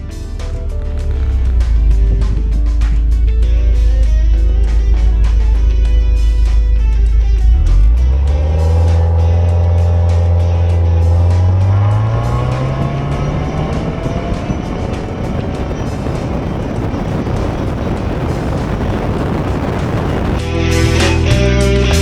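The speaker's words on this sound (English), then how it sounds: "the car accelerates while the RPMs reach and remain constant at around 5500" Subaru WRX with a CVT launching under launch control, a loud close engine roar that climbs in pitch after a few seconds and then holds a steady high drone while accelerating, with no talk.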